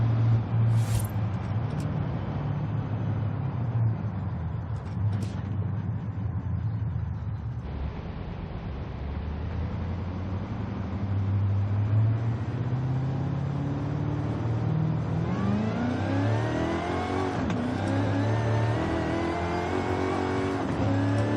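A Dodge Super Bee engine in Forza Horizon 5 revs and accelerates steadily, its low rumble rising in pitch through gear changes, loud and close with no talk.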